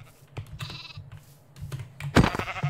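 Sheep in the video game Minecraft bleat in short, wavering cries, a few quick calls followed by a louder, closer bleat near the end.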